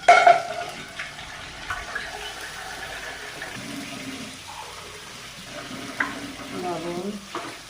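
Garlic frying in a pan for a Bengali fish and new potato dish, a soft steady sizzle with occasional stirring scrapes and faint background voices.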